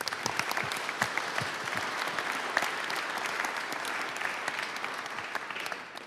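A town hall forum audience gives a round of applause honoring an Iraq War veteran, with steady, dense clapping sustained throughout and only faint speech mixed in.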